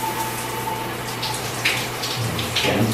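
A repaired electric shower runs water in a steady, close hiss with a low hum underneath, continuous for the whole stretch and with no talking.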